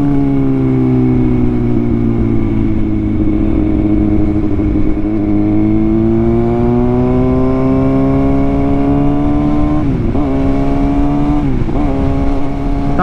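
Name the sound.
Kawasaki ZX6R 2022 motorcycle engine idling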